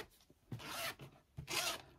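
Zipper on a sewn pocket pulled open and then closed, two distinct rasping strokes, close and fairly quiet, with no talk.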